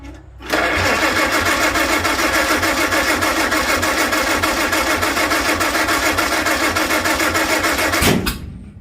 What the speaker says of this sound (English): Backfired, 180 degrees off.